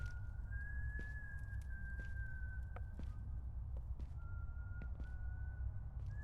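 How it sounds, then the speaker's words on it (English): A distant whistling character in the horror video game The Wine sounds out a thin, wavering whistled tone that holds steady, faint and far off over a low ambient rumble, broken by a few soft clicks. "That's the whistling guy."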